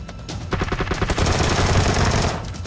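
Rapid automatic gunfire from the PUBG Lite video game, sustained bursts of loud, dense shots filling the whole moment with no talk.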